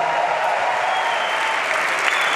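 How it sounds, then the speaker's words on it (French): Steady, dense applause from a church congregation at a worship gathering fills the space evenly throughout, with no gaps and no talking. "Et que tous ceux qui ont été pardonnés et substitués par Jésus fassent monter un grand Amen et des applaudissements devant le roi des rois."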